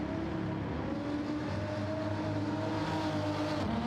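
Toyota Supra race car engine in Gran Turismo 7, a steady, loud mechanical drone with rising and falling harmonic tones as the car holds speed, with no talking over it.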